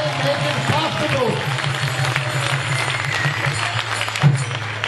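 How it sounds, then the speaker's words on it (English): Steady audience applause fills a lecture hall after a farewell talk in Italy, a dense continuous wash of clapping with crowd murmur and hum underneath. "We have to give them a big hand, big applause"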